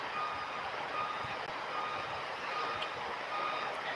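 Steady, repeating reversing beeps from trucks outside ring over a dense, continuous wash of outdoor traffic and engine noise, with no talk.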